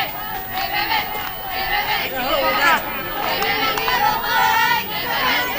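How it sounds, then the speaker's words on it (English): A high school softball team's bench cheers steadily on a teammate during a 2A state tournament game, with overlapping voices, shouts and chatter from the dugout running the whole time at moderate loudness. "You can hear the Wildcat bench cheering on their teammate."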